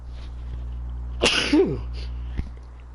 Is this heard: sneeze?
yes